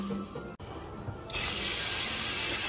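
Water running steadily from a tap into a cooking pot of potatoes, starting partway through and continuing as a loud, even rush to the end.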